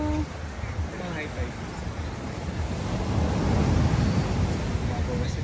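Strong ocean waves at high tide on a Boracay beach, a continuous rumbling surf that swells louder toward the end, mixed with wind buffeting the microphone and people talking nearby.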